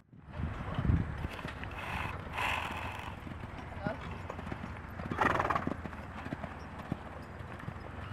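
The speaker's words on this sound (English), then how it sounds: "Luna, you're the cutest pony I've ever seen" A pony's hooves clip-clop steadily while walking during a ride, with a few whinnies breaking through; people talk over the sounds throughout.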